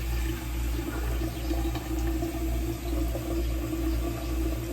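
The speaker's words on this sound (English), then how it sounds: "And I'll just wet my face a little bit again." Water runs and splashes steadily at a bathroom sink as a face is wetted during a skincare routine, close and continuous under a low background hum.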